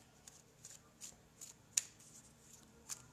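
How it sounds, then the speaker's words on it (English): Oracle cards being shuffled by hand, soft riffling rustles with a few sharper snaps, faint and close. "So we're going to shuffle them."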